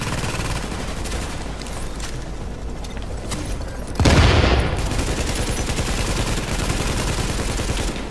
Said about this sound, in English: this is some really bad shooting by me